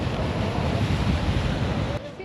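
Ocean surf rolls in at Barra beach in Salvador, Brazil, a steady loud wash of breaking waves with wind buffeting the microphone, easing slightly near the end.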